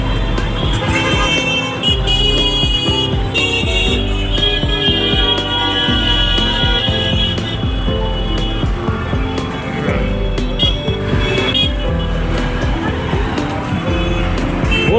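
Jammed traffic on a busy city road, a dense steady rumble of engines with occasional short horn toots, loud and continuous, a voice talking faintly at times.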